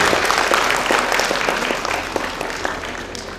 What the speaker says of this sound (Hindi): तालियां जोरदार चाहूंगा प्लीज।